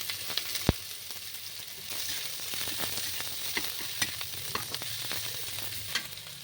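Onion whites, onion greens and chilli pieces fry in a pan for chilli paneer, with a steady close hiss and sizzle and occasional sharp spatula scrapes and taps, and no voices.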